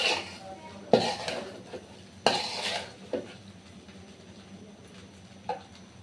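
A spatula stirs vegetable fried rice with chicken in a pan, giving several sharp metallic clanks and scrapes at uneven intervals, moderately close, with a soft sizzle between them.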